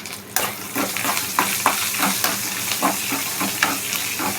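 A tempering of garlic, curry leaves, asafoetida and coriander sizzles in a pan for Andhra-style pappu charu, a steady close crackle punctuated by repeated stirring scrapes and clinks.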